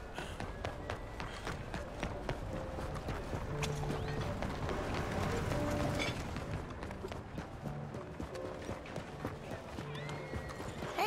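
Horse hooves clip-clop steadily through Red Dead Redemption 2 amid whinnies and neighs, a busy game soundscape with faint background voices and ambient music layered underneath.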